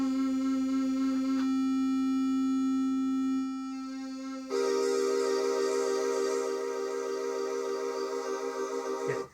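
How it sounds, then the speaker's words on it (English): A Roland Jupiter 6 synthesizer plays a sustained, harmonically rich tone that shifts timbre partway through, then swells with the steady wavering of triangle-LFO pulse width modulation. Loud and close, with no voices. "you can have the pulse width modulated by, for example, the LFO. Let's set it to a triangle and modulate it."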